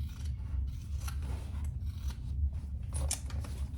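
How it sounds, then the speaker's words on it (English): Scissors trimming the corners of a waxed canvas pouch, close, crisp snips and rustling cuts in quick succession over a low hum, with no talking. "Now, I am gonna trim my corners"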